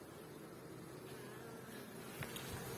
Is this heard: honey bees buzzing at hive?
yes